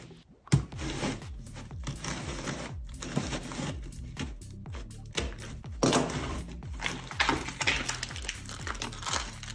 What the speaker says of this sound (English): Real simple packaging. I'll open it up here.